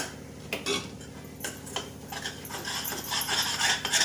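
A sesame-peanut filling with milk is stirred in a pan, a spoon scraping and clinking against the metal in irregular strokes that grow busier and louder toward the end, with no voices.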